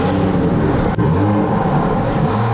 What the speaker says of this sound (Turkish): Buna ara gaz vereceğim.